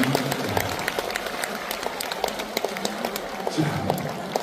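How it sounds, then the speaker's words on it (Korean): Audience at a concert hall clapping as a fan mother undergoing cancer treatment is acknowledged from the stage, a steady spread of hand claps with crowd murmur and voices over it. "같이 좀 박수 좀 보내주세요."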